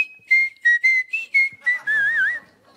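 A person whistles a short melody nearby: several clear staccato notes in quick succession, then a longer wavering note with vibrato.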